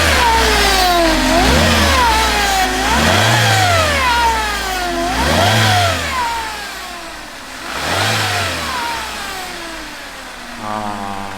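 A 2016 Hyundai Accent with 84,000 km engine revving repeatedly in a car repair shop, several rising and falling rev sweeps with transmission whine, loud and close, settling toward idle at the end.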